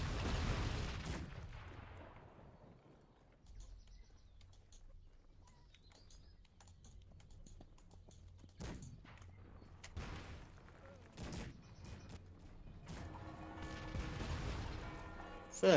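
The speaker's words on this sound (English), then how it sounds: "The tower is shelling us" In Cossacks 3, a tower shells the player's units with a few distant booming cannon impacts spaced several seconds apart over quiet battlefield ambience.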